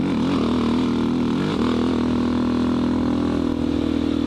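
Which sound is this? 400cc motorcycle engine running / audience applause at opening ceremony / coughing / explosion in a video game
400cc motorcycle engine running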